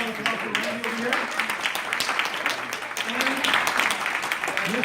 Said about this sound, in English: And Mr. Gordon, so please give a great round of applause over here